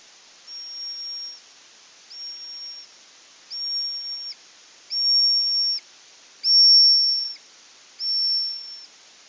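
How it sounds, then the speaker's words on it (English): Echolocation from a stationary bat emitting continuous-wave calls, rendered as six evenly spaced, steady high whistle-like tones, each about a second long, growing somewhat louder toward the end, alone against silence. "So this bat sits there, emits a continuous wave."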